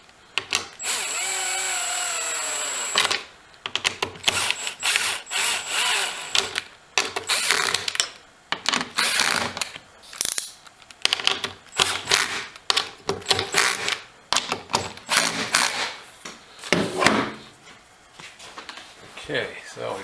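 Power tool or impact driver tightening 10 mm bolts on aftermarket Spike Power Sports doors of a 2021 Polaris Ranger, in repeated short whirring bursts of varying length, close and fairly loud, alternating with someone talking.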